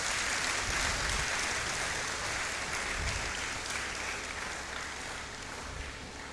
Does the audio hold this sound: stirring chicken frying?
no